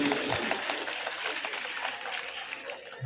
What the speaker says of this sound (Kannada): ಮತ್ತೊಮ್ಮೆ ಜೋರಾದ ಚಪ್ಪಾಳೆ